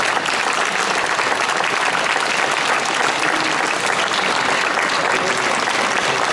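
An audience applauds at a Slovácko folk costume parade festival, dense sustained clapping from many hands, loud and close, continuing evenly throughout without pause.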